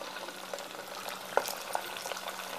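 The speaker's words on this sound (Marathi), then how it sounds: "आता आपण वडे तळून घेऊया।" Sabudana vada fritters frying in hot oil in a pan, a soft steady sizzle with a few brief crackles and pops near the middle, heard alone without talk.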